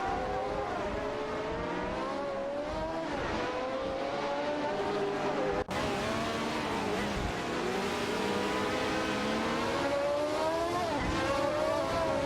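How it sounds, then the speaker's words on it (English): Ferrari 312T race cars from a racing video game dueling on track, engines whining in high rising and falling tones across the full stretch, with a brief cut midway and commentary voices underneath. "Both cars, a Ferrari 312T, are really fighting it out on the track"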